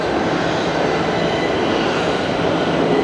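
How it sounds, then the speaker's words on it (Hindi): A metro train pulls into a station in Iran, a steady, loud, broadband roar of wheels and motors filling the platform without pause. "तो भाई हमारी मेट्रो ये आ गई है, देखो उस साइड से भी आ गई है"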